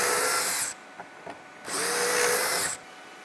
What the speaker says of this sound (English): So now we're just gonna go ahead and put some pocket holes